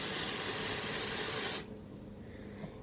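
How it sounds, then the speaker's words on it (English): A can of Paul Mitchell tinted blonde dry shampoo sprays in a continuous close, loud hiss for about a second and a half, then cuts off abruptly to near quiet. "you just keep spraying until you feel like it covers it up"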